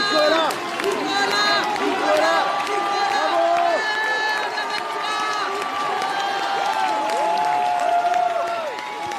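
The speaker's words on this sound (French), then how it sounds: "Eh ben, profites-en de ton dernier bain de foule, Nico." A lively crowd cheers and shouts, with excited voices rising and falling throughout, mixed with some clapping and chatter.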